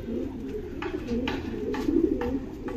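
Pigeons of a Madrasi breed in a loft, a male and female pair, giving soft repeated coos in a steady rhythm close by, with faint background murmur.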